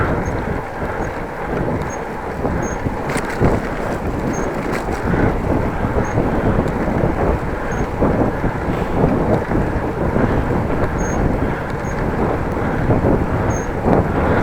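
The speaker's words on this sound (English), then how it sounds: "A little more headwind, it slows me down." Steady, loud wind rushing over the microphone of a cyclist riding into a headwind on a quiet rural route between Groningen and Appingedam in the Netherlands; a continuous roar with no talking.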